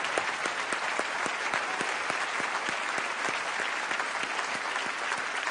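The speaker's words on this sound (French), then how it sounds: "ils sont là, on peut les applaudir tous" A television studio audience applauds steadily, dense continuous clapping from many hands at moderate loudness, with no talk over it.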